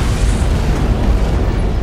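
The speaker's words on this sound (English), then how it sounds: "It must have been one of their boarding parties. I'd guess an antimatter charge." A deep, rumbling antimatter charge explosion aboard a ship in the Halo video game, a loud sustained boom that fills the whole moment with heavy low roar and no voices.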